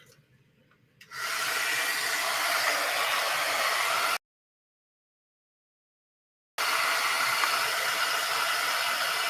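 A heat drying tool blows on freshly inked junk journal pages. Its loud, steady whooshing whir runs close by, cuts off for a couple of seconds, then starts again.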